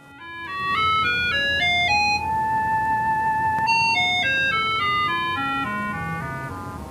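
A light sound device turns the changing brightness of a TV light into electronic tones, steady pure pitches that glide and step up and down in a continuous melodic line, loud and close with no talking.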